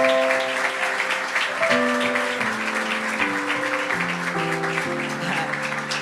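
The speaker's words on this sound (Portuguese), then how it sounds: "Por favor, uma salva de palmas, por gentileza." A church congregation claps together in applause, steady and continuous, with organ or keyboard chords sustained beneath it.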